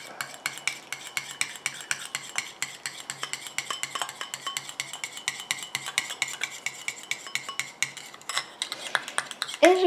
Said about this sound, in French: je mets ma phase huileuse dans mon récipient et je rajoute ma phase aqueuse en mélangeant